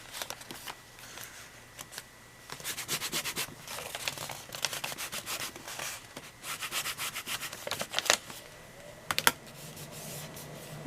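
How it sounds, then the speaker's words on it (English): Craft scraper rubbed across a sticker in a journal, bursts of quick rasping and scratching strokes with a few short pauses between them, close and fairly quiet, with no talking. "let me get my craft scraper so I can smooth this down"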